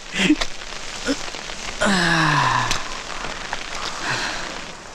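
Heavy monsoon rain with wind patters densely and steadily on surfaces up close. A brief, drawn-out, falling, voice-like tone swells over the downpour midway through.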